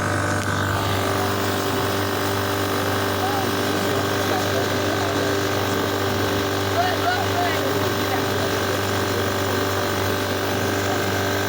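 A motorboat engine runs steadily on a river in Sierra Leone, a constant mechanical drone with rattling and whirring layered on top, heard up close with people talking faintly in the background.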